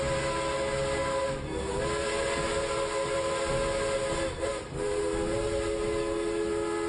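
A train whistle blows in long sustained tones over a steady rumble of rail noise, with two short breaks between the blasts. The sound is loud and continuous, and no one speaks.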